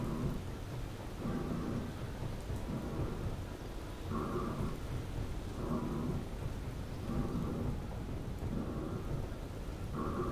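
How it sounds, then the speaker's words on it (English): Steady rainfall in Space Engineers with repeated low rumbles of thunder rolling in at intervals, no voices. "It's raining"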